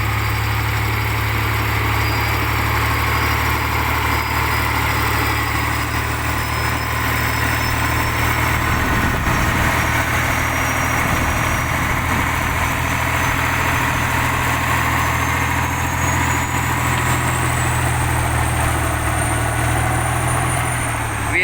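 A T-150 tractor bulldozer's heavy diesel engine runs steadily and loud, a constant low rumble with a faint rising whine drifting upward through it.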